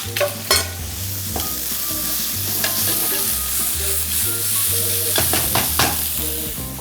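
Bacon and garlic being stir-fried in a pan for eggplant arrabbiata: a steady, close sizzle with repeated scraping and tossing strokes of a utensil, brief sharper clacks near the start and end, no voices.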